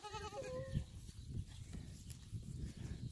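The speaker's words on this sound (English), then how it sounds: "Hey, goats. Come on." Goats bleat on a farm, one clear wavering bleat near the start followed by lower animal sounds and rustling, close by.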